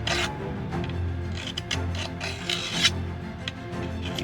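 A hand file rasps along a chainsaw bar rail during dressing, close scraping strokes that repeatedly catch and hook on a burr.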